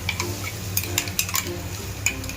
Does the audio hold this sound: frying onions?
yes